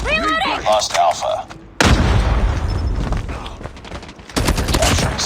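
Bursts of assault rifle fire in a Call of Duty match crack out loudly, sharp rapid volleys following a brief spoken game callout, with dense automatic shots and booming impacts filling most of the short stretch.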